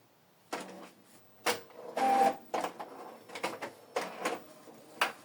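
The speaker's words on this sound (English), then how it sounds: "So the photo is printing." An Epson L3280 inkjet printer printing a 4x6 photo: a series of close, separate mechanical whirs and clacks as the paper feeds and the print head shuttles, with short quiet gaps between them.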